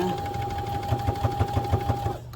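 A sewing machine runs steadily while stitching a zigzag stitch on a soft padded figure skate guard, with a constant motor whine and an even, rhythmic pulsing of the needle, close and fairly loud.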